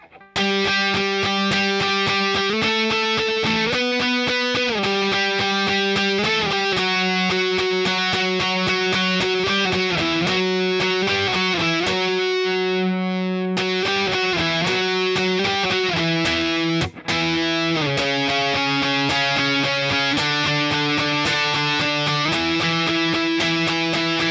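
A distorted electric guitar plays the chorus lead line of a song, a loud run of sustained and picked notes. It pauses briefly midway, then the melody continues unaccompanied with no talking.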